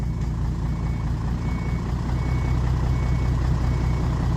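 A large truck backing up with its reversing alarm sounding, a steady rumbling engine drone filling the scene, close and loud, with no talk over it.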